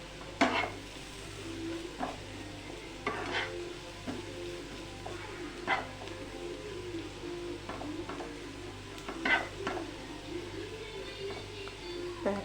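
Kashmiri chili powder is sautéed in a pan, with a soft, low sizzle under repeated light scrapes and taps of a spoon against the pan, fairly quiet and close, with no talking.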